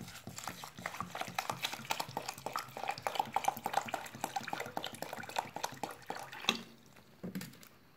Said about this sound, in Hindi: पानी डालने के बाद चावलों को अच्छी तरह से वॉश कर लें, इस तरह से हाथ से जो है उनको वॉश कर लें